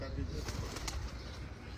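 Low pigeon coos rumble close by on a rooftop during a pigeon-flying session, mixed with indistinct human voices in the background.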